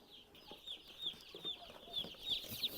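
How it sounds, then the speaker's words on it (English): Many day-old chicks in a brooder peep in a constant high, shrill chatter, with overlapping tiny cheeps repeating close by throughout. "This is our day old chicks."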